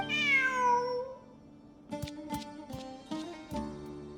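A cat in a video game lets out a long, clear, descending meow, then several short, bright plucked chimes ring out one after another as the game music continues.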